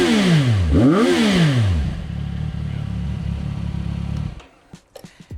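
A CFMOTO 675 SS sport motorcycle revs hard with rising and falling engine sweeps, then settles into a steady close idle rumble before cutting to scattered knocks.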